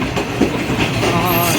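A Subak Kharram rail car runs on the track while overtaking a train, giving a loud, steady rumbling roar with rail clatter throughout.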